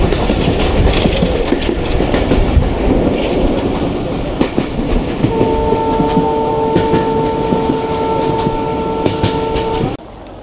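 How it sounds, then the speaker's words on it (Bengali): The Tungipara Express rumbles into Madhukhali station with steady rolling clatter throughout, loud and near, joined midway by a sustained horn-like tone before the noise cuts off abruptly. "আমাদের ট্রেন এখন মধুখালী স্টেশনে আছে"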